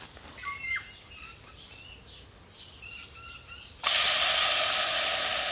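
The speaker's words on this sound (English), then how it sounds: "Sizzling, that's a good sign." A sudden loud, steady hiss of bacon sizzling in a pan over a twig stove bursts in after a few seconds of quiet outdoor background with faint bird chirps, then continues evenly.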